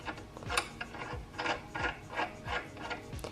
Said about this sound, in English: we're going to tighten it with an open end wrench and screw in the nut on the other end